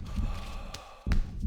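Torque, a character in The Suffering, pants and sighs in a few short, breathy gasps over a low game ambience, with a sharper intake of breath near the end.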